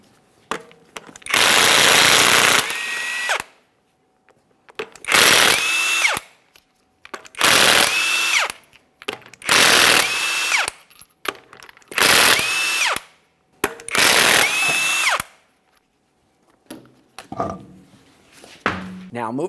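A power tool spins off the six 22mm lug nuts on a GMC Acadia wheel in five or six separate short bursts of whirring with pauses between them, loud and close.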